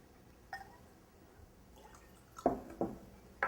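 Clementine juice is poured into a glass in small, quiet splashes and drips, a few sharp liquid spatters scattered over a soft background, close by with no talking.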